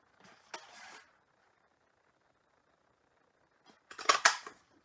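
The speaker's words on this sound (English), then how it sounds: "we're going to cut that out with the rectangular postage punch" A rectangular postage punch cuts through paper during a card-making stamping workshop, giving two short, crisp clicks and crunches, one near the start and a louder one near the end, separated by quiet.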